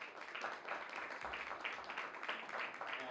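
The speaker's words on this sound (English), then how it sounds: "So please give him a round of applause." Audience applause at a live Q&A session in a venue in Pune, India: steady, dense clapping from a crowd filling the whole stretch at moderate level, with some faint voices mixed in.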